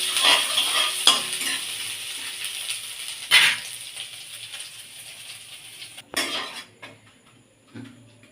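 Grated ginger sautés in a pan for Bengali dhokar dalna, with a soft sizzle under repeated metal spatula clanks and scraping stirs against the pan, several sharp knocks spaced a few seconds apart.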